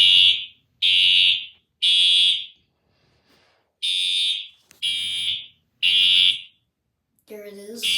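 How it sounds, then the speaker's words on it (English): A fire alarm system on test sounds a loud, piercing electronic tone in repeated bursts of about a second with short gaps, then a different warbling tone begins at the end. "this is another test of fire alarm system."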